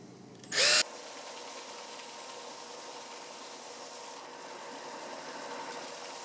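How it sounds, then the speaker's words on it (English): A brief loud burst from a power drill drilling small holes partway into wood, then a steady mechanical whirring hum that carries on evenly, close by, with no talking. "now I'm going to drill me some little holes"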